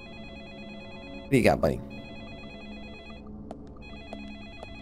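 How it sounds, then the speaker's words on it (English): A telephone rings in the video game Deadly Premonition, a repeating electronic trill under game music, briefly interrupted by a burst of nearby talking. "And the phone rings. Of course it rings."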